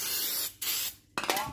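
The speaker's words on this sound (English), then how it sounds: "To clean that off, use a bit of brake clean" Aerosol brake cleaner hisses in short bursts onto a new front brake rotor of a Mazda CX7, two loud close sprays separated by a brief pause.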